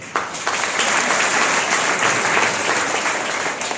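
A classroom or lecture audience breaks into loud clapping during a motivational talk. The applause rises sharply and holds as a dense, steady roar for a few seconds before easing slightly at the end, with no speech over it.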